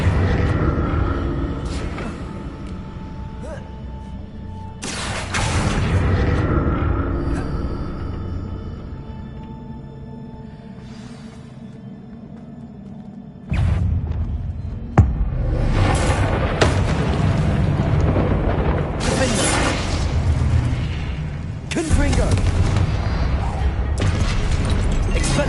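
Explosions from the Confringo spell in Hogwarts Legacy, heavy booming blasts and crashing bursts that recur across a noisy battle, with a sharp loud impact partway through and dense rumbling between hits.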